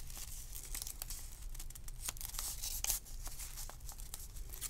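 Scissors cutting through crepe paper up close, a faint series of crisp snips and crinkly tearing sounds over a low background hum.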